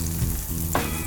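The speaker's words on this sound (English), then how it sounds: "now into my hot pan I'm going to add some onion" Onion dropped into a hot pan for crispy noodles, giving a brief, dense, loud sizzle with a small clatter partway through and no voice.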